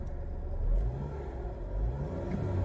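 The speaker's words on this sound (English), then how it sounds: "So a little bit of accessory noise, like a pulley or something maybe." A flood-damaged Saab 9-3 SE turbo engine runs close by with a low, uneven drone and a faint whirring accessory or pulley noise, swelling slightly twice.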